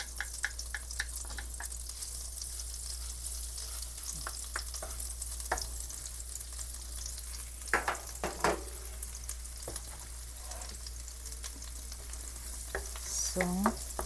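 Garlic frying in melted butter for a shrimp dish sizzles steadily in a pan, close and soft, with occasional stirring clinks and scrapes.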